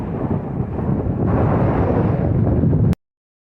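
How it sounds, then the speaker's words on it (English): Strong wind buffets the microphone on top of Madonna Peak along the Vermont Long Trail, a loud continuous roaring rumble that cuts off abruptly. "Okay, it's a lot windy."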